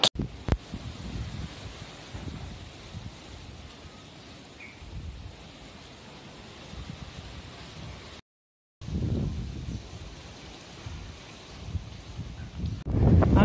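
Steady, fairly faint wind buffets the microphone on a beach at Parupuk Tabing, Padang, rising in gusts with a broad noisy rush and cutting out briefly near the middle.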